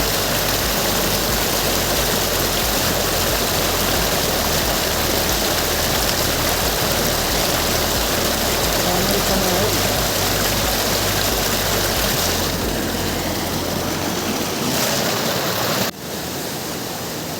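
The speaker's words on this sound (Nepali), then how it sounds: "अगाडि पनि नदी, पछाडि पनि नदी, बिचमा हामी उभिरहेका छौँ" Loud, steady rushing of a river, a dense continuous roar of flowing water that dips slightly near the end.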